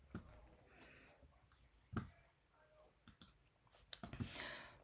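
A few sharp computer mouse clicks, spaced irregularly, with one quiet click early and louder ones near the middle and end, set against faint room noise and no speech.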